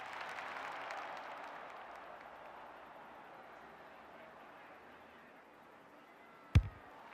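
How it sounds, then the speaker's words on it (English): Faint, distant crowd roar from a virtual stadium in an AFL 26 Australian football game swells early and slowly dies away, with a sharp knock near the end. "The crowd noise tells you all you need to know."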